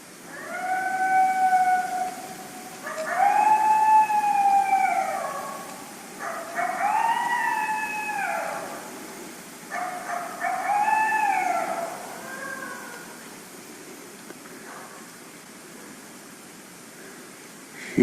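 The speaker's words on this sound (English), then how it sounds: "Guess that's a coyote or a wolf up there." An eastern coyote howls outdoors at a distance, its long rising and falling wails repeating four times over steady background hiss before fading away.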